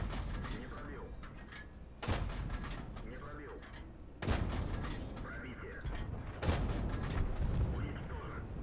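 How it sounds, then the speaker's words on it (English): Rapid tank cannon fire from a T-34 in a tank battle video game, with three or four heavy shots roughly two seconds apart over a steady rumbling engine and battle background. "The rate of fire on this tank is just unreal."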